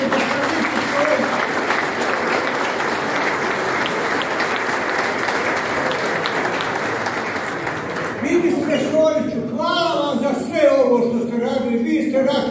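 Sustained applause from a crowd at a military decoration ceremony in Široki Brijeg, loud and dense for about eight seconds before a voice takes over over the fading clapping.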